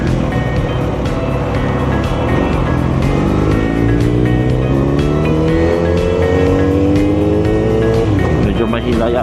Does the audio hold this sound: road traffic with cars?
yes